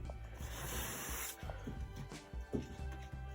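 A spray can or gun hissing as it lays a heavier coat of white paint onto a wall inside a 1979 Chevy Cobra RV, in close continuous bursts with small knocks and handling noises between them.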